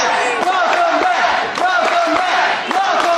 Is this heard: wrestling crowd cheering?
yes